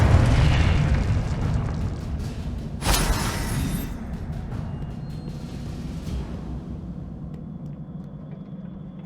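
A Confringo explosive spell blast in Hogwarts Legacy, a loud booming burst with a sharp crack near the three-second mark over a rumbling background that slowly fades away.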